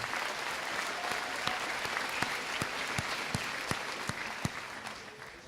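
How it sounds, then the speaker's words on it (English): Audience applause at a high school graduation ceremony, a steady wash of clapping from a large crowd with a few sharper nearby claps standing out, fading slightly toward the end. "Let's give all these people that I mentioned a big round of applause."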